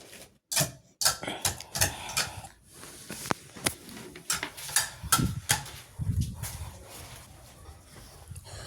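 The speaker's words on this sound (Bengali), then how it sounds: "হামানদিস্তায় নিয়ে এটা সুন্দরভাবে আমি বেটে নিচ্ছি।" Spices pounded in a mortar and pestle for a chicken bhuna, with irregular sharp knocks and grinding thuds, close and fairly loud, alone without talk.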